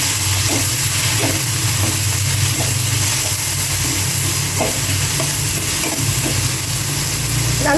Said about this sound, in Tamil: நல்லா வதங்கட்டும். தக்காளி முழுசாகவே நல்லா வதங்கி கிரேவி மாதிரி ஆகணும்.